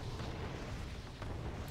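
Soviet warship cannon fire in Red Alert 2 sounds as a brief, low rumbling boom, moderately distant and fairly faint, with no talk over it.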